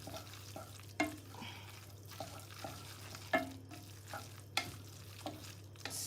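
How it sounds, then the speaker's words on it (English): Spaghetti being stirred in a cooking pot, with a series of soft scraping and clinking strokes at irregular intervals over a steady low hum, close and moderately quiet, no voices. "Stir it around."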